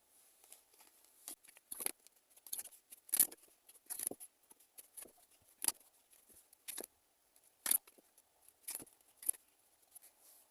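Tarot cards are handled and drawn, with quiet, irregular flicks, snaps and light rustles of card stock close to the listener, separated by short silences.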